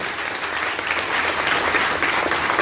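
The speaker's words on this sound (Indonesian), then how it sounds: "Tepuk tangan dong Bapak dulu." A crowd in a pub bursts into steady, sustained applause, dense clapping filling the room throughout, with little talk underneath.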